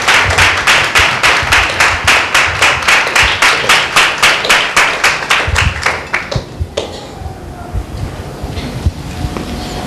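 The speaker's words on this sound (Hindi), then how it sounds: "आइए एक जोरदार ताली परमेश्वर के नाम की महिमा के लिए देंगे" A church congregation at a Sunday meeting claps loudly in a steady, rhythmic unison beat for several seconds, then the clapping breaks up and fades into quieter scattered sound.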